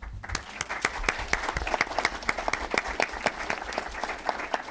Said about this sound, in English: thank John and everyone who participated in this discussion with one more round of applause